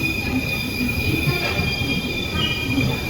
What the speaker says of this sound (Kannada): ಹಾಸನಿಂದ ಸೋಲಾಪುರ್ಗೆ ಹೋಗೋ ಹಾಸನ್ ಸೋಲಾಪುರ್ ಎಕ್ಸ್ಪ್ರೆಸ್ಸು ಅಂದರೆ ಈ ಟ್ರೈನ್ ಪೇರಿಂಗ್ ಟ್ರೈನು ಪ್ಲ್ಯಾಟ್ಫಾರ್ಮ್